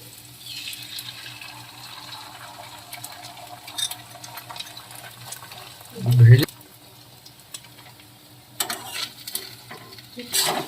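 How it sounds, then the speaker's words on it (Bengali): An egg fries in a pan with a low steady sizzle, broken by a scrape and a clunk of stirring partway through. "এবার আমি এইখানে একটা ডিম ভেজে দেবো"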